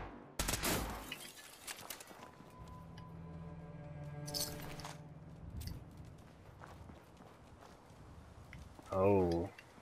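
Gunfire in Fallout 4 aimed at a security light: a sharp burst of shots near the start and another around the middle, with electronic game tones humming between them and a warbling effect near the end.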